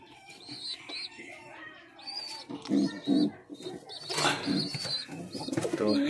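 Loton pigeons cooing in a loft, soft repeated throaty coos with faint wing flutters and rustling, fairly close and quiet, the calls rising and falling in irregular bursts.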